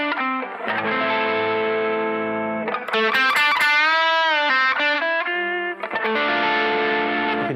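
Overdriven electric guitar plays a minor blues lead in a rock style, with a few sustained, bent notes leaning on the sharp five. The tone is loud and close, thickened by chorus-like effects, with no voice.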